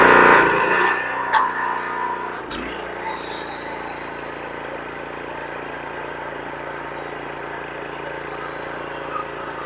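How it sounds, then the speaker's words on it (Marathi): A self-start diesel power weeder engine runs close by, louder for the first seconds, then settling into a steady, even mechanical hum. "मशीन स्टार्ट झालेलं आहे"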